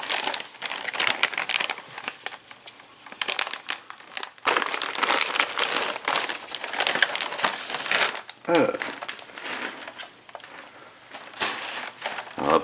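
Plastic packaging from an Eaglemoss Ecto-1 model kit crinkles and crackles close by as parts are unpacked, in loud bursts with brief pauses and a sharp tear near the middle.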